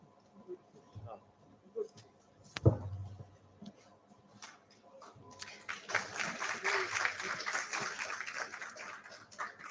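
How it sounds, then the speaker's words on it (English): Applause at an academic business conference's welcome ceremony. A quiet room with a few scattered sounds and a sharp knock gives way, midway, to a swelling round of moderate clapping that carries on to the end. "With a bigger round of applause, please."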